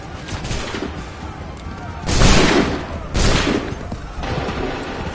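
Musket volleys crack out in Assassin's Creed III, two loud rolling fusillades about a second apart over constant battle clatter, with shouted orders in the mix.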